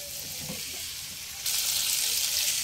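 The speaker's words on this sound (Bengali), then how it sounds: "2 থেকে 3 মিনিট সমস্ত মশলার মধ্যে আলু আর কপিগুলো কষিয়ে নিয়েছি" Potatoes and cauliflower sautéing in spices in a pan for cauliflower pulao, a steady sizzling hiss that turns louder and brighter halfway through, with a few soft stirring scrapes.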